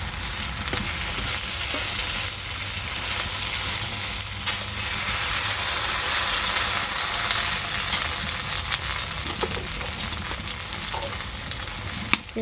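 Lentil fritters (bora) frying in oil, a continuous loud bubbling sizzle close by with intermittent stirring and scraping sounds, without speech.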